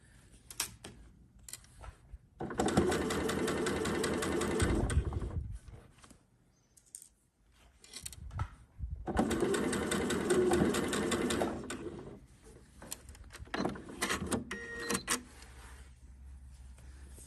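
A sewing machine stitches quilt binding strips in two long, steady bursts with short pauses, plus a brief third run, loud and close with no talking.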